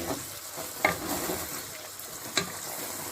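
Ingredients for nihari, including ginger and garlic, fried in a pan, a low continuous sizzle with a couple of sharp spatula clinks, close and without talk.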